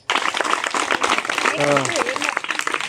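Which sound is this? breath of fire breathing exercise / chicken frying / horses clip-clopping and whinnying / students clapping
students clapping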